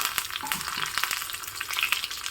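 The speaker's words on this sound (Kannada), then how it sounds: "ಒಂದು ಚಮಚ ಕಡಲೆಬೇಳೆ ನೋಡಿ ಒಗ್ಗರಣೆ ಆಗ್ತಾ ಇರೋವಾಗಲೇ ಕರಿಬೇವಿನ ಸೊಪ್ಪನ್ನು ಹಾಕಿದ್ದೀನಿ" Curry leaves and chana dal crackle in a hot oil tempering with cumin, a close, bright sizzle with quick spitting pops and light stirring, no voices.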